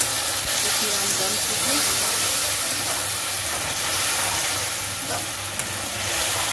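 Water poured into a pot of dry fruits frying in oil for sweet zarda rice sets off a loud, continuous sizzle and hiss, steady throughout at close range.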